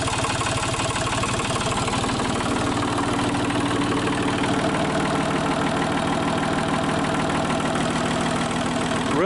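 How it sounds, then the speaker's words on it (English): A Sellick Piggyback forklift engine idling steadily and loudly close by, slightly raised idle, a constant rumbling throb with a rhythmic mechanical knock and vibration throughout. "Got the engine running. I idled it up a little bit."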